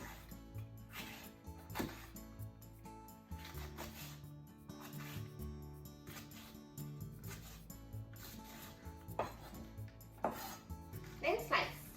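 A knife slices a leek on a cutting board in quiet repeated strokes, soft thuds and rustling cuts arriving irregularly, close and fairly faint.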